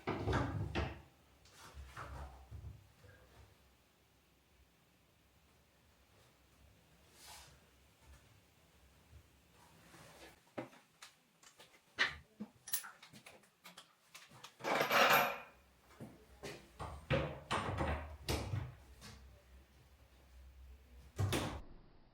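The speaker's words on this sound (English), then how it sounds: "this is a solid wooden door with some glass in it, and it's super heavy, so it was quite hard work to get it to fit" A heavy solid wooden door with glass panels is wrestled into its frame, giving scattered knocks, bumps and scraping thuds at irregular intervals, louder and busier toward the end, with no one talking.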